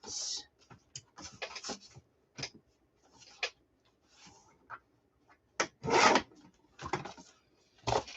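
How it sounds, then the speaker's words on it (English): Scattered close, faint scrapes and rubs come in short bursts with silent gaps between them as yellow paper is trimmed to size for a scrapbook layout. "I'm going to trim that yellow down so it's actually the proper size"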